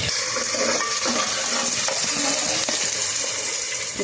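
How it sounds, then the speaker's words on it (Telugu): Onions sizzling and frying in a pan for a Telugu kanda and brinjal pulusu, a steady close-up hiss with faint clinks and no talking. "ఇప్పుడైతే ఉల్లిపాయలు బాగా వేయించుకుందాం"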